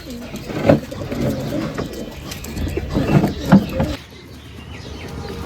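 Giribaj biscuit pigeons coo in a home loft, with several soft, throaty coos close by at irregular intervals over a low background murmur.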